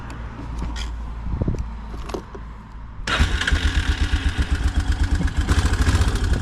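A semi-automatic ATV with newly replaced clutches gives a few faint clicks and clunks, then its engine fires abruptly. It settles into a close, loud, evenly pulsing idle.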